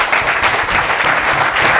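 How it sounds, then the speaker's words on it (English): Audience applause for a panel at a go-to-market community talk, a dense steady patter of many hands clapping throughout, loud and close with no talk over it. "this is our first huge round of applause for this panel."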